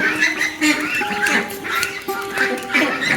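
Peking Star 13 ducks quacking in a repeated, overlapping chorus at a farm, close and fairly loud, with a voice talking faintly underneath.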